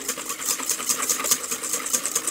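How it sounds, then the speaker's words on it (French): An electric mixer whips a warm chocolate génoise-style batter until it cools, for a Halloween chocolate and orange entremets. The motor gives a steady, close, continuous whir throughout. "on va terminer au batteur électrique jusqu'à refroidissement."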